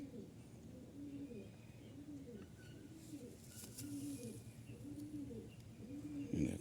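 Punjabi Malwai pigeons coo repeatedly in soft, rhythmic low phrases, close by, with a faint chirp or two and some background noise.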